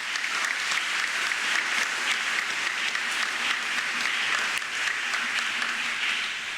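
A church congregation at Sunday Mass applauds continuously, a steady wash of many hands clapping at moderate volume throughout, with no pauses.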